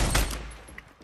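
Loud, close gunfire burst from a sniper rifle in Fortnite, one sharp report that decays quickly, with a small click near the end.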